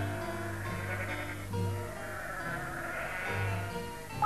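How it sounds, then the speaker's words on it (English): Sheep climbing over a farm wall in a 1995 Postman Pat children's story, bleating in a few drawn-out calls over gentle background music. "3 of Alf's sheep climbing over the wall."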